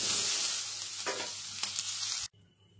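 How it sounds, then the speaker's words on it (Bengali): Mixed vegetables fry in a pan with salt and turmeric, a loud steady sizzle with a couple of stirring scrapes, cutting off abruptly to near silence just before the end. "বাদ বাকি সবজিগুলো আমি এর মধ্যে দিয়ে দিলাম, আর দিয়ে দেবো একটু নুন আর হলুদ দিয়ে সবজিগুলোকে আমি একটু ভেজে"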